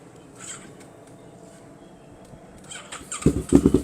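A 2017 Kawasaki Ninja 650 KRT motorcycle engine: a low, quiet rumble for most of the stretch, then a sudden loud, pulsing burst of engine firing near the end, close by.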